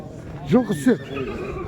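A horse whinnies loudly in a short, quavering burst, nearby, with faint background voices, at a livestock market in Shymkent, Kazakhstan.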